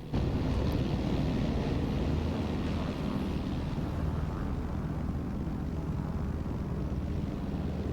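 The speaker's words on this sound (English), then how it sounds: "that way you guys can actually hear the helicopter" A loud, steady helicopter roar of engine and rotors in the video game Arma Reforger fills the whole stretch without a break, close by, with a faint wind-like rush on top.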